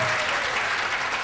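A short burst of dense audience applause at a talk on life values, many hands clapping together steadily and fairly loudly, with no voices over it.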